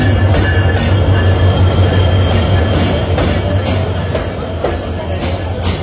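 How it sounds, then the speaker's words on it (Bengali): Locomotive 3019 pulls into Brahmanbaria railway station, a steady loud rumble of train cars with a low engine drone and faint rhythmic clacks and squeals throughout. "আজকের লোকোমোটিভ 3019।"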